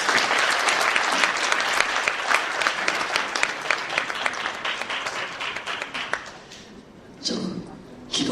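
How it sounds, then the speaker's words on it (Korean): Steady applause from an audience at a patriotic gathering of church leaders in a hotel ballroom, many hands clapping loudly for several seconds before fading, with a voice briefly over the end. "박수로 모시겠습니다."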